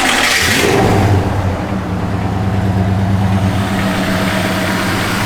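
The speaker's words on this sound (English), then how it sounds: "Car just fires right up, runs as smooth as can be." A 1964 Ford Falcon engine starts with a loud burst and settles into a smooth, steady idle close by, running alone without talk.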